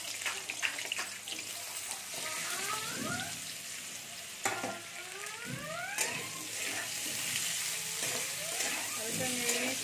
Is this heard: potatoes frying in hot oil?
yes